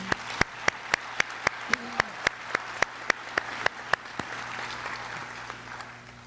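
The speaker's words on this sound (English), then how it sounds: "if you give her a round of applause one more time" Applause from the audience at a career and technology center graduation ceremony, heard as sparse, distinct individual claps in a steady rhythm, close and sharp, over a quiet hum in a large hall.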